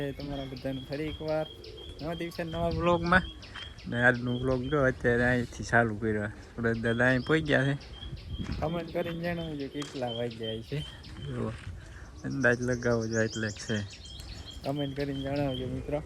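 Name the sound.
sparrows chirping outdoors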